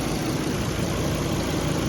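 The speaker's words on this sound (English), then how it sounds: "All right, car's running." A Volvo S60 being checked for overheating idles with a steady, dense engine rumble, close by and unbroken, with no talking over it.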